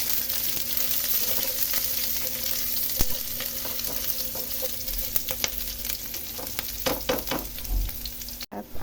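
Onion fries in a pan with a steady, close sizzle, broken by occasional scrapes and clacks of a utensil stirring, alongside a faint constant hum.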